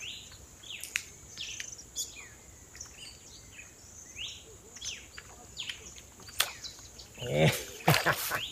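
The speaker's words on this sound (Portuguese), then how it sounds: "Passarinho rindo da minha cara aí, pessoal." Small birds chirp and call repeatedly at a riverbank fishing spot where tilapia are being caught with worms, short high notes scattered over steady insect buzz, with a louder burst of calls near the end and a voice speaking briefly.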